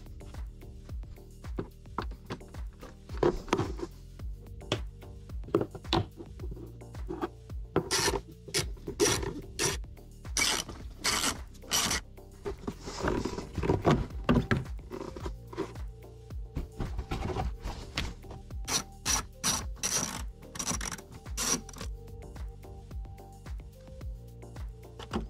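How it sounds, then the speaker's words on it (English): Plastic trunk trim being pried and pulled off a BMW X3 F25, quiet rasping, rubbing and scraping with scattered sharp clicks of clips, close up. "Now let's disassemble the trunk trim and remove the fuse box."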